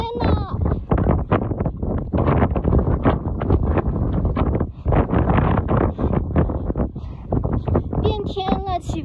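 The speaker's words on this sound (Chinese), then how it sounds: "变天了，起风了。" Strong gusting wind buffets the microphone at a campsite beside a natural hot spring in Tibet, roaring steadily throughout, with a voice speaking over it near the end.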